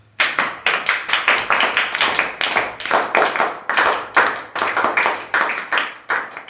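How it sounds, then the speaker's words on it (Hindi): Classroom students clapping together for a classmate, a fast, even rhythm of sharp claps that runs steadily and loudly throughout. "अंश के लिए ताली बजाओ।"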